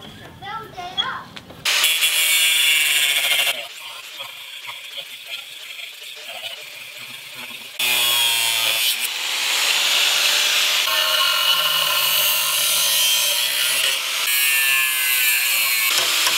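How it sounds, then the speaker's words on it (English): An angle grinder grinds steel farrier rasps being made into knives, with long loud bursts of harsh abrasive grinding separated by short pauses, and a person talking in between. "I've taken the angle grinder and smoothed out three of these Farrier rasps"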